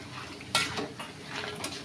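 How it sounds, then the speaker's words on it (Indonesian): Emping crackers being turned over in hot frying oil, soft clinks and scrapes of a utensil against the pan with one sharper knock, over a faint steady sizzle. "Lalu kita bolak-balik, kita goreng sampai berwarna kuning kecoklatan."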